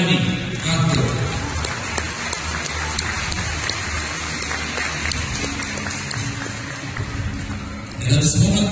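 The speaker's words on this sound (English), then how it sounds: "a big round of applause for Mr. Andy Castro." An audience at an award event applauds in a dense, continuous wash of clapping that stays steady and fairly loud before swelling again at the very end.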